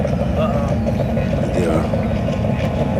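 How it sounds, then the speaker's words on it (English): Personal watercraft racing at an APBA boat race at Havasu Landing Resort, California, a steady droning engine roar over water with people talking throughout. "what's racing now looks to be skidoos"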